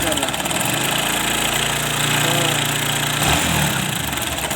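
Bajaj Discover 150 motorcycle engine running after repair with a new gasket, a loud steady idle with a fast even beat held close throughout, with a speaking voice mixed in.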